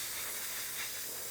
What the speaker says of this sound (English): That's how I clean my airbrush out.